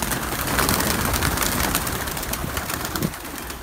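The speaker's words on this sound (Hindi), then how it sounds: "ये बहुत अच्छा कबूतर" Pigeons being kept and trained by fanciers, heard as steady soft cooing over a continuous outdoor background with no talk.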